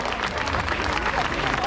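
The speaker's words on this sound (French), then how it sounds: "Alors j'aimerais que vous applaudissiez" Crowd at an outdoor national rally for peace and freedom applauding in a continuous dense wash of clapping, loud and steady throughout the short burst.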